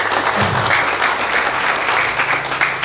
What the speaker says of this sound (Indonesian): Tepuk tangan dulu untuk Pak Kades.